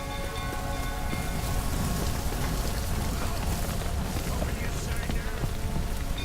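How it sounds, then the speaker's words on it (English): Dense, steady rainfall in The Witcher 3 video game hisses evenly throughout, with a low rumble and a faint hum of background tones beneath it. "Looks like rain."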